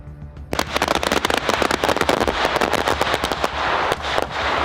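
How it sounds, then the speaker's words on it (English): Water fireworks bursting over water in a dense, rapid barrage of sharp cracks and pops, loud and continuous for several seconds. "the fireworks emerged from the water, illuminating the sky in a breathtaking showcase"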